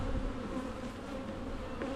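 Honey bees buzz around an open hive in a steady, faint drone with a few individual bees passing close by.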